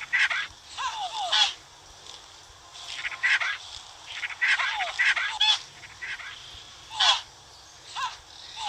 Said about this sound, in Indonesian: Ini ayam kita pukul dulu.